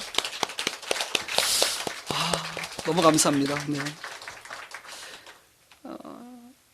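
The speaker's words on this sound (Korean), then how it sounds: "우리 한번 하나님께 영광의 박수 한번 올릴까요?" A church congregation claps together in dense, loud applause that thins out and fades, followed by a speaker's voice and a short reply.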